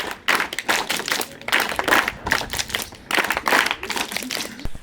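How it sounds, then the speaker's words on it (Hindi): Group of school scouts clapping together in the rhythmic five-clap scout pattern, repeated bursts of sharp claps in quick groups with brief pauses between them, loud and close. "स्काउट पंच ताली शुरू।"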